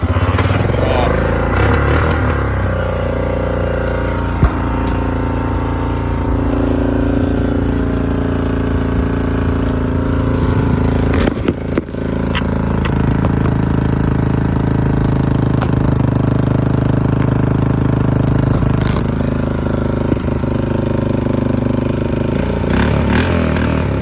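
A motorcycle fitted with a new carburetor runs loud and steady throughout, a close, rumbling engine idling and revving with a brief dip near the middle.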